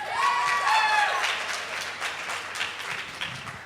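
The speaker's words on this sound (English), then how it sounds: "And you got some applause from the crowd that time." An audience at a 2013 mayoral forum on sustainability bursts into applause, a dense wash of clapping that is loudest at first and gradually thins out, with a voice briefly heard over it at the start.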